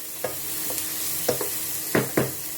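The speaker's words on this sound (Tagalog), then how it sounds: "Haluin lang natin." Beef with plenty of onions and chili sizzles quietly in a pan while a spatula scrapes and stirs it, giving five or six distinct scraping strokes over a soft steady fry.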